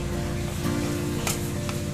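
Steady sizzling and soft scraping fill a vessel as sugar is mixed into hot roasted idiyappam sevai, with a couple of brief metallic clinks over the continuous frying hiss.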